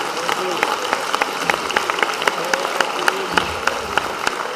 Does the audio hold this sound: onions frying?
no